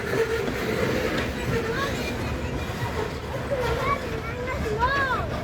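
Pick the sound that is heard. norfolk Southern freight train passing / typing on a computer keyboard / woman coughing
norfolk Southern freight train passing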